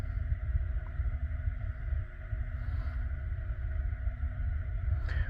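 A FLEX bowling lane machine's motor runs in sweep mode, giving a steady, loud mechanical hum with constant low rumble and faint tonal whine throughout, with no voices.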